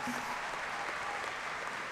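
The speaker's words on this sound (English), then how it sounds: "If you're summa cum laude, stand up so we can clap for you" Graduation crowd at a high school ceremony applauding summa cum laude students, a continuous even wash of many hands clapping at a steady level, filling the room.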